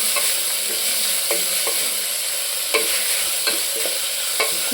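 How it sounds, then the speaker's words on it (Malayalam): Onions fry in oil inside a pressure cooker, a continuous sizzle broken by repeated scraping strokes of a spoon stirring them against the metal. "സവോളയൊക്കെ ഒന്ന് നന്നായിട്ട് മൂത്ത് വരുന്നവരെ നമുക്കൊന്ന് ഇളക്കി കൊടുക്കാം"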